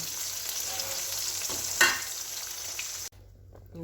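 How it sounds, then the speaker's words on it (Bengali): Fish fries in a pan with a steady close hiss and a brief louder crackle midway, then the sizzle cuts out abruptly near the end. "এই মাছগুলো আমি এখানে ভাজা বসিয়ে দিয়েছি"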